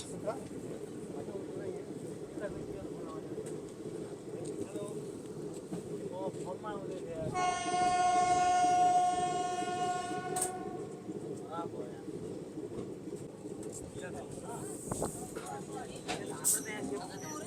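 A Chennai–Lucknow Express passenger train pulling into Pokhrayan railway station in Uttar Pradesh, heard as a continuous rumbling roll with a loud, tonal horn blast of about three seconds partway through.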